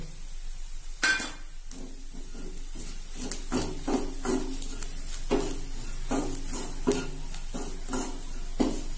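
A spoon scrapes and stirs in a pan while grated coconut, curry leaves and chilli and coriander powders sauté, giving repeated metallic clinks over a soft, steady sizzle.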